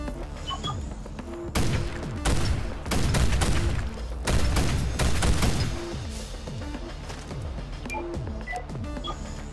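A Lotus gun mod in Fallout 4 fires in bursts of rapid, loud shots, with quieter sparse shots and mechanical clicks between them and no voices.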